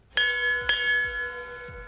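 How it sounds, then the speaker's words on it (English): A large bell is struck twice in quick succession, each clang ringing out bright and metallic before decaying into a long sustained hum, rung by a boy marking the end of his cancer treatment at a celebration. "During the announcement, you got to hear that bell, boom, boom, boom, to end his cancer treatment."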